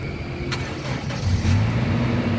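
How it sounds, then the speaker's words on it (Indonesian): A 2012 Toyota Kijang Innova 2.0 G automatic cranks and fires, its engine catching and settling into a steady low idle rumble, close and continuous without any talk. "sekarang kita coba nyalakan mobil ya"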